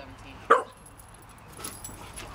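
A puppy near a park lets out one sharp, brief yip, followed by soft rustling and quiet background noise.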